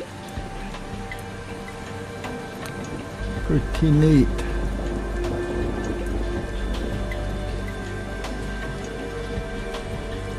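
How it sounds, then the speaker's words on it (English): Rain patters steadily on a driveway in a constant wash of drops, with a low hum and a brief spoken remark partway through. "And the raindrops bouncing off my driveway."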